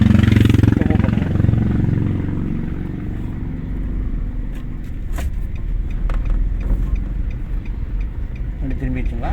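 A car rumbles along during a driving lesson, the engine and road noise steady and close throughout, with an instructor talking over it.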